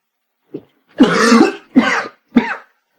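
A series of throaty coughs, close and loud: one long rasping cough followed by two shorter ones, with a faint breath before.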